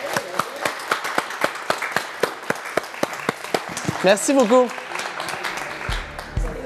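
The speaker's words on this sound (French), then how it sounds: "Je vous demanderai une belle main d'applaudissement pour vous autres." Evenly spaced hand claps from a small audience, a steady rhythmic patter lasting several seconds before fading, followed by a brief spoken thank-you near the end.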